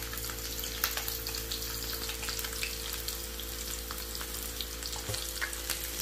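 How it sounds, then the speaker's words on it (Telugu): Masala crispy corn with spices fries in a pan of oil, giving a steady, close, continuous sizzle with faint stirring clicks and no voices. "సో వీటన్నిటిని వేసుకొని చక్కగా వేయించుకోవాలి"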